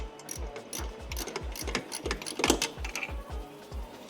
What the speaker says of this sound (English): now he's taking off the second bolt that's holding the turbo inlet in place